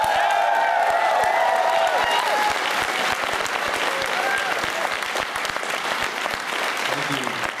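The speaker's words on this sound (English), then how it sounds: "Now, a round of applause." A festival audience at a Toronto film screening Q&A breaks into a loud, sustained round of applause, dense clapping with a few cheers and whoops mixed in, filling the hall throughout.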